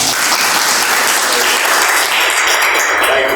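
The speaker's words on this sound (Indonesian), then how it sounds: "Berikan aplaus pada kita semua." A room of participants at an agricultural extension teaching session breaks into loud, dense applause, sustained clapping from many hands throughout.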